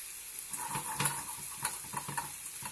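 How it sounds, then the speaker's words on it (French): Cherry tomatoes dropped into a hot frying pan with aubergine strips and garlic shrimp, giving a soft steady sizzle with light stirring clicks and small taps, fairly quiet and close. "je commence à faire plonger mes petites tomates"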